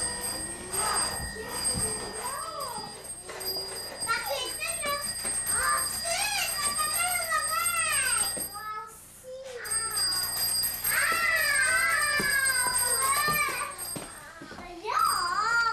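A toy telephone ringing as a child plays with it indoors at a home daycare, its repeated warbling electronic tones running loud and steady beside a voice, with a short break near the middle.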